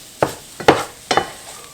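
Ground beef browning in a pan while a spatula breaks it into chunks: three distinct scraping stirs, each a sharp burst over a soft, steady sizzle, close and moderately loud.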